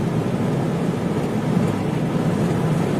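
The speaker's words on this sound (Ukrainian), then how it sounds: "Ось зараз я буду намагатися розкрутити двигун більше 2000 обертів." A Fiat Doblo engine, one that smokes and struggles to drive, is held above 2000 rpm, a steady droning rumble without pauses or spoken voices.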